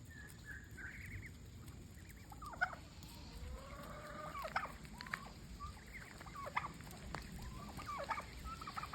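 Turkeys gobble and call in short bursts over steady outdoor background noise, moderately distant, with several calls spread across the clip.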